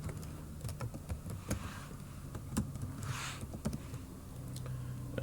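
Computer keyboard keys tapped in a rapid, uneven run of light clicks while a password is entered during a WordPress site setup, set against a quiet room hum.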